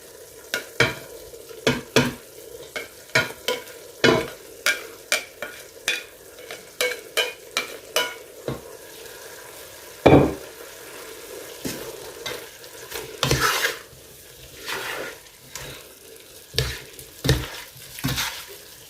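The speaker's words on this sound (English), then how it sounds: "I've been stirring from time to time for like 5 minutes now, and our meat is looking really good." Meat frying in a pan for a mango pasta, stirred in a run of sharp scraping strokes, some quick and some spaced apart, over a low sizzle, close up with no voices.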